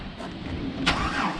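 Engine of a 1961 Pontiac Laurentian cranking and catching after the key is turned, a brief starter burst followed by a second short surge, heard close over a steady running drone.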